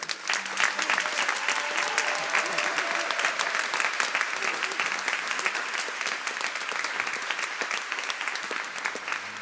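Warm, continuous applause from an audience honoring a volunteer organizer at an anniversary gathering, dense even clapping sustained throughout with faint crowd murmur underneath.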